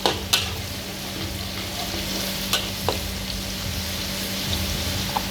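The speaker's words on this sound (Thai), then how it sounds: "เอาพริกเผาลง ลงพอประมาณก็ใส่นี่แหละ คัวให้หอม" Roasted chili paste sizzles and fries in a hot pan, a steady crackling hiss with a few sharp clinks of a utensil stirring, close up and without talk.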